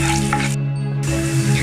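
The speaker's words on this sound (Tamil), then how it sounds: "இஞ்சி பூண்டு நல்லா வதங்கட்டும்." Ginger and garlic sauté in hot oil with a steady, close sizzle that holds evenly throughout, with no voices.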